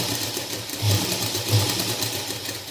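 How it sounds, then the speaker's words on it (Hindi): A sewing machine stitches along the edge of an embroidered kurta neckline, a steady close mechanical whirr with a fast needle rhythm that runs without a break. "इससे पहले हम यहाँ किनारे किनारे पे सिलाई लगाएंगे"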